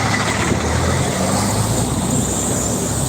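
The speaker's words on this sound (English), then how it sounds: "let me have this loud truck go by" A loud truck passes close by on a road, a steady broad engine and tyre roar filling the whole stretch with no pause.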